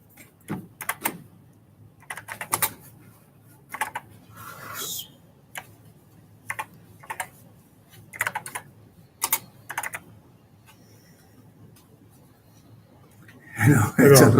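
Typing on a computer keyboard at a users' group meeting, scattered clusters of sharp key clicks and taps at close range, irregular and halting, with a short burst of louder rustling noise at the end.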